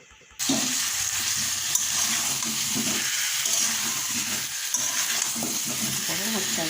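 Potatoes being stir-fried in a pan for aloo dum, a loud constant sizzle that starts abruptly, with ongoing stirring and occasional spatula knocks, close up and without talk.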